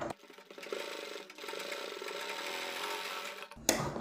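A sewing machine runs steadily for about three and a half seconds, stitching the border of a kurti, a continuous close mechanical whir that stops abruptly before a brief louder clatter at the end.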